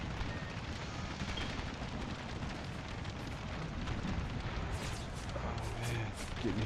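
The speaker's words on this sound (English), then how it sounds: "Oh man, getting hit by artillery." Artillery fire pounds infantry units in a Napoleon: Total War American Civil War mod battle, a continuous distant rumble of cannon blasts and impacts with sharper crackling hits near the end.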